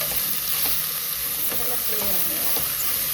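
Mushroom biryani frying in a pan with steady loud sizzling and hiss, broken by a few scraping stirs of a spoon, continuous and close, no voices.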